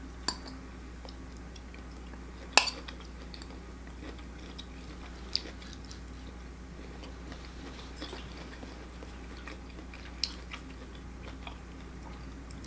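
Crisp carrots crunched in close bites, a handful of sharp, isolated snaps spread over a quiet, steady room hum.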